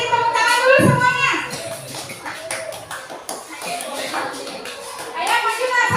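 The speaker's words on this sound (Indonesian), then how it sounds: "Tepuk tangan dulu semuanya" A classroom of children claps their hands in a busy, uneven burst that mixes with lively kids' chatter and a teacher's voice, loud and close throughout.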